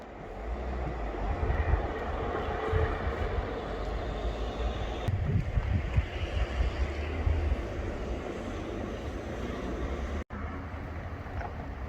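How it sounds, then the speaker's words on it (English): A train passes on the Inverness to Perth line, a continuous low rumble and rolling rattle heard from outdoors near the track, with wind buffeting the microphone and one abrupt dropout near the end. "there is a train about to come along here"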